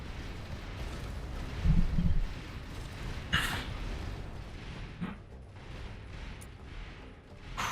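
Spaceship cannons in Avorion boom in a few heavy, widely spaced blasts over a steady low rumble of space combat, one deep thud early and sharper cracks later.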